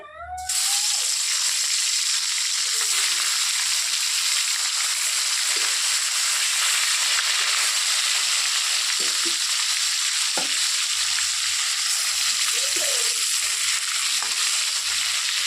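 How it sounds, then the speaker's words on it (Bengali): Tilapia fish dropped into fully heated oil set off a loud, steady sizzle that carries on throughout, with a few small pops and scrapes. The fish are being fried for a village-style Bengali recipe. "এখন তেলের মধ্যে মাছগুলো দিয়ে দিতে হবে"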